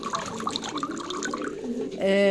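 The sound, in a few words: pouring water with herb into a container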